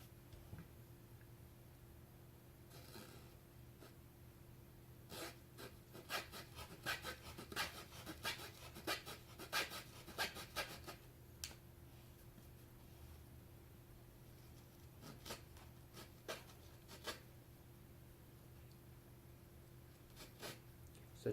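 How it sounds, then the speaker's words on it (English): A hacksaw blade cuts around a wooden staff in repeated short rasping strokes, loose and uneven at first, then a dense run of close scraping bursts midway and a few scattered strokes toward the end, close and fairly faint over steady background hum. "I'm going to go all the way around with the hacksaw"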